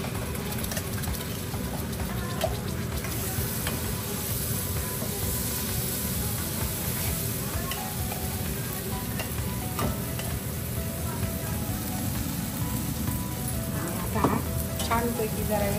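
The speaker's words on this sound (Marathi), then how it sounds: "हा बघा तेलात मसाला छान परतवला आणि आता हे" Spice masala frying in oil for a traditional Nashik village dubuk wadi gravy, giving a steady, close sizzle with stirring scrapes throughout and a brief louder clink near the end.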